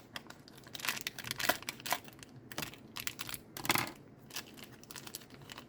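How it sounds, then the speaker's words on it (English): Scissors cut through a plastic package of Model Magic clay, producing close, quiet crinkling and rustling in irregular bursts with short pauses between snips and no talk. "I just am using scissors just to cut the Model Magic clay package"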